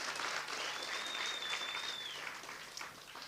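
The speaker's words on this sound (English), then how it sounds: "let's give them a big round of applause and appreciation." An audience at a school sports gathering claps in a sustained, even round of applause, a mid-distance wash of many hands with a faint tonal whistle running through it.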